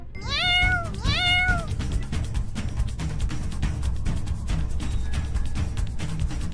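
A cartoon cat gives two quick, clear meows in the opening seconds, loud and close, followed by a steady, busy background bed with no further cries.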